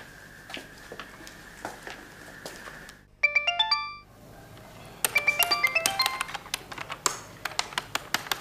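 A telephone ringing in an Indonesian drama scene: a short melodic ringtone phrase plays alone, then repeats louder as a rapid sequence of bright electronic tones with clicks, close and clear.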